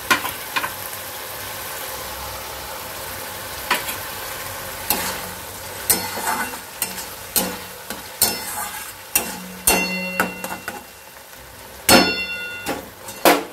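Chicken kofta curry with green chili paste and water sizzling in a pan, a steady frying hiss broken by repeated sharp clinks and scrapes of stirring, close and fairly loud.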